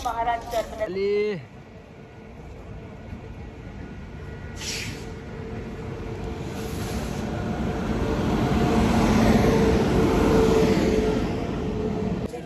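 A train pulls into Nashik station: a low rumble grows steadily louder over several seconds and peaks near the end with clattering and screeching, while people talk close by at the start.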